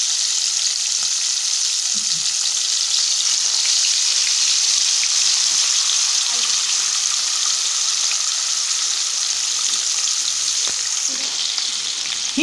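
Fish fillets, wrapped in lavash, sizzle steadily in a frying pan with hot oil, a dense continuous crackle that stays close and even throughout with small spits and pops.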